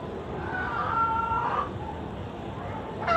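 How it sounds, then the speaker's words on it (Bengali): Sonali chickens at a poultry market cluck, and one gives a drawn-out crow partway through, heard at moderate distance over a steady, noisy market background. "এগুলো হচ্ছে সোনালী মুরগি"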